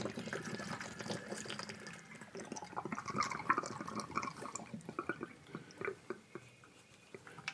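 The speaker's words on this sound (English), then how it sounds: "And you see there's some residual water coming" Water trickles and gurgles steadily as it drains from a Rheem tankless water heater during a flush, with splashy drips and bubbling pulses coming and going, no voices present.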